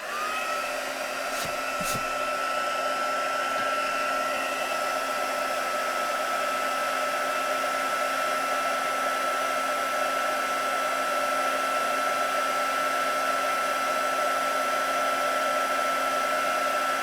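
A heat gun blows steadily while melting embossing powder on a journaling card, a loud, even, close whirring hum that continues unchanged throughout.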